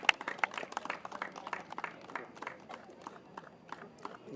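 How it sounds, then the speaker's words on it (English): Scattered applause and clapping from a small crowd at a post-match trophy presentation for the Malaysia women versus Nepal women T20I cricket series, a brisk, uneven patter of hands that thins out over several seconds. "A round of applause."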